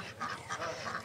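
Ducks quack and honk on a farm where ducks and Muscovy ducks are kept together. Several short calls follow each other at a moderate distance over a low, steady outdoor rumble.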